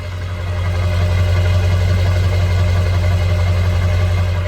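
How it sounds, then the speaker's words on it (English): Exhaust of a 2002 Ford Excursion Limited's 7.3L Powerstroke diesel at idle, a loud, deep, steady drone heard up close at the tailpipe, building slightly at the start and then holding even throughout. "come around to the exhaust so you can hear it"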